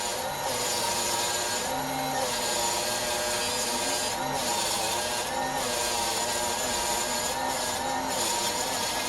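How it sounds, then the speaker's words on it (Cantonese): A saw rip-cuts along an acrylic sheet, a steady continuous grinding whine lasting throughout at close range with no voices. "完成咗底板嘅順切，再順切埋面板。"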